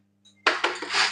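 Pots and pans clatter during dishwashing at home, with a faint metallic clink and then a loud burst of scraping, rubbing and clanking metal up close.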